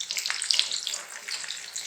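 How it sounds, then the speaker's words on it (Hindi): Onions frying in hot oil give a dense, continuous sizzle with fine crackling and spitting, close and steady throughout, with no voices. "ये हमारी प्याज तली जा रही है।"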